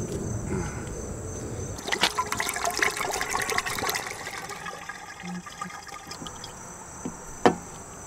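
Presto brake fluid is poured from a bottle into a car's gas tank, giving a gurgling, splashing liquid stream with intermittent glugs and a sharper splash near the end, moderately close with no talk.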